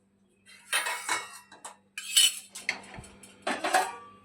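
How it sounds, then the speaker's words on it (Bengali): Dry-roasted oats are tipped from a pan into a container in a home kitchen, with several separate bursts of metallic scraping and clinking of utensil against cookware, spaced by short quiet gaps, close and fairly loud. "এবারে আমরা এর একটি পাত্রে ঢেলে নেব"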